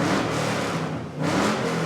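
An LS V8-swapped 1975 Buick LeSabre convertible revs hard twice, a loud throaty exhaust roar that briefly dips between the bursts, recorded up close.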